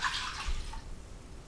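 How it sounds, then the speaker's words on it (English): Water pours into a pot of whole grain rolled oats for stovetop oatmeal: a brief, bright splashing stream that tapers off into a quieter trickle, with no voices. "I'm going to add about 1 1/3 cups of water."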